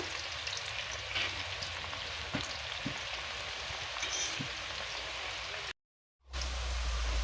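Soft, steady sizzle of jackfruit slices frying in oil, with a few light taps and a brief silent gap near the end.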